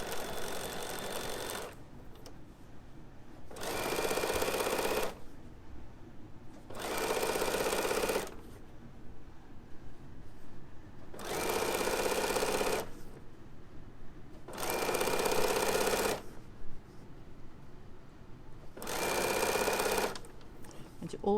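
A domestic sewing machine stitches a narrow zip seam in repeated short bursts, each run lasting a second or two, separated by quiet pauses, with a few faint background sounds between runs.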